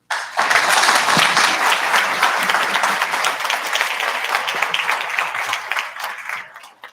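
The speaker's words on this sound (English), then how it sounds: "Bigger applause for the final panel of the day, please." Loud, full applause from a conference audience for the day's final panel at a World Food Day event starts abruptly, stays strong and dense, then fades near the end.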